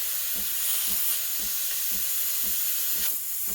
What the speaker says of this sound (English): you need to learn the technique of how to steam milk